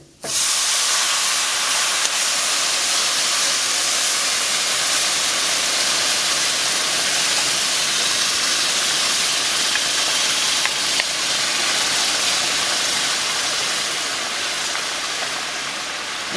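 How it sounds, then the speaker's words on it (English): Loud, steady sizzle of food hitting a hot pan while cooking chipotle chicken tacos, a broad hissing wash of steam that holds constant and close for the whole stretch with no talk over it. "It's gonna get loud and steamy."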